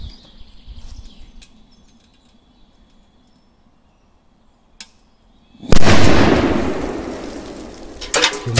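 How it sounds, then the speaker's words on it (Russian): Firecrackers go off under a metal can: faint crackles and small pops at first, then one loud, close blast that rings out with a long noisy decay and further crackling at the end. "Так, давайте взрывать эти, что остались петарды"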